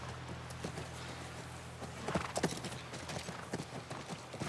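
A horse's hooves clip-clop near a ranch in a video game. The hoofbeats are soft and quick over a low background hum and grow louder and busier midway.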